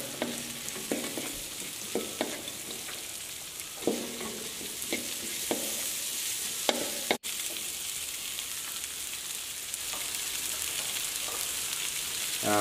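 Red chili, onion and lime leaves stir-frying in a pan for a white cabbage dish, a loud, steady sizzle with spatula scrapes recurring every second or so and a brief break midway.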